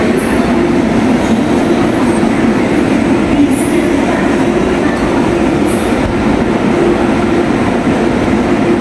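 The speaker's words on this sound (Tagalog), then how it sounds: "Abangan namin galing doon yung train." A train rolls into the Disneyland station, a loud, steady rumble of wheels and rail noise close by, with faint squeals on top and no talking.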